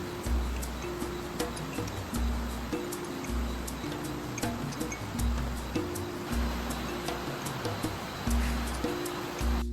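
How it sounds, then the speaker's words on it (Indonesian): A river flows steadily at night beside a forest shelter, a constant rushing wash of water with faint drips, under a repeating low musical tone. "Hanya ada suara aliran sungai."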